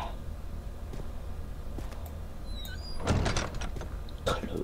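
A door in the video game Amnesia swings shut with a dull thud and rattle over low ambient rumble, with someone talking quietly alongside.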